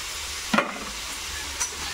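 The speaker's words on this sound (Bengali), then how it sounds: "এদিকে আলুটা ভালো করে কষিয়ে নিয়েছি, এর মধ্যে সয়াবিন ভাজাটা দেবো।" Fried soybean chunks tipped into sautéed potatoes in a pan and stirred, giving a sharp scrape and clatter followed by a lighter second scrape over a low sizzle of frying.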